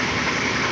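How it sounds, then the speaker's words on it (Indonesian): A rebuilt 1991 Daihatsu Taft GT engine runs with a loud, dense, steady roar, heard only in a short burst. "mesin Daihatsu TAF GT tahun 91 dari nol sampai mesin running"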